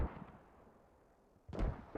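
Mortar fire in the military shooter Squad, one low muffled boom at the start, then two heavier thuds close together near the end, over a quiet battlefield background.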